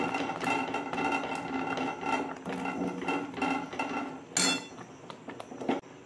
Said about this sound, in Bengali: এইবার আমি ওই দুধের মধ্যে দিয়ে দেবো পেঁয়াজ, দিয়ে নেড়ে নেবো।